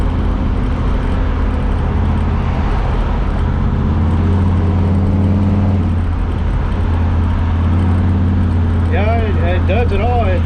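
Car with an LS1 V8 engine cruising on a freeway at about 65 mph, a steady low rumble with some shifting tone, close and continuous, with a voice speaking briefly near the end.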